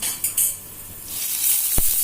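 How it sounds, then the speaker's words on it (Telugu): Urad dal, dried red chilies, garlic and curry leaves frying in oil for an Andhra-style tempering give a soft continuous sizzle, with a couple of brief clinks near the start and a short low knock toward the end. "ఇవన్నీ బాగా వేయించుకోవాలి ఆయిల్లో."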